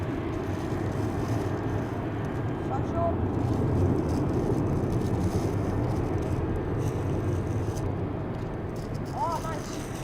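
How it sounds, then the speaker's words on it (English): A Swiss Airbus A220-300 jet departs Amsterdam Schiphol, a steady broad engine roar holding loud at a distance throughout, with a few faint high tones rising over it. "Lovely Swiss A220-300, which is going to Zurich."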